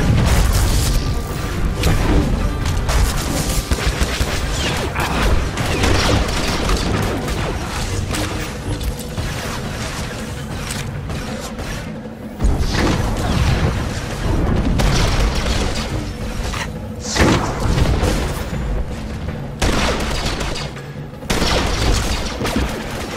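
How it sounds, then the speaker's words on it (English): Cryo grenade explosion in the Star Wars The Old Republic Taral V mission, buried in a dense, loud, continuous battle mix of booms, blaster fire and crashes lasting throughout. "you can see he's tossing a cryo grenade at one of the other troopers"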